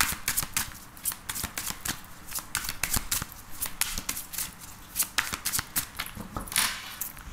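Tarot cards being shuffled, with close, crisp riffling and slapping in repeated uneven bursts that carry on steadily and stand alone without speech.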